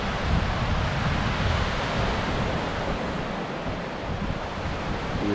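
Waves washing onto a Lake Michigan beach at sunrise at Kohler-Andrae State Park in Wisconsin, a steady broadband surf roar with wind rumble, constant and fairly loud throughout with no voices.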